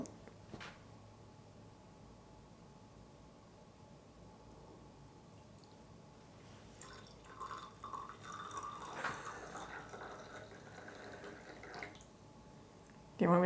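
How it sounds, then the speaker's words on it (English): Water is poured slowly over Chemex pour-over coffee, a soft trickle and dribble that builds in the middle and fades, faint and close, with quiet talk in the background. "so the first pour of my Chemex coffee"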